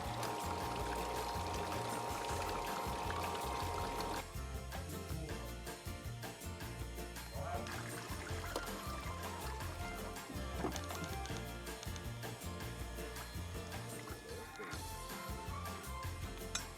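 Fresh water pours and gushes steadily through an outboard motor during flushing after descaling, a constant rushing flow throughout that becomes slightly rougher and more splashy partway in.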